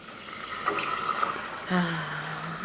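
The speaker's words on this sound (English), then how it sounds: "at this point, I'm going to pour the tomato sauce" Tomato sauce pours into a hot pan of garlic-infused extra virgin olive oil, giving a sudden loud sizzling rush near the end that holds steady, after a quieter stretch with faint kitchen sounds.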